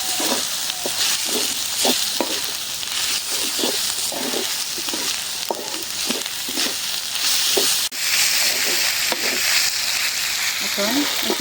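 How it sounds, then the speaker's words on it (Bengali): Onion and potato fry steadily in a pan with turmeric and dried chilli powder, a continuous close sizzle broken by regular scraping stirs of a spoon throughout. "এখন পেঁয়াজ আর আলু কষানো হলো।"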